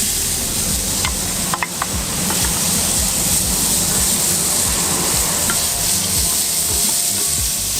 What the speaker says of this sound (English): I like to give it a good stir while it's frying, just to kind of coat the walls of the pot as well